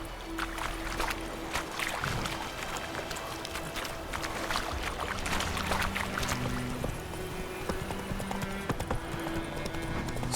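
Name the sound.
horse galloping in video game The Witcher 3: Wild Hunt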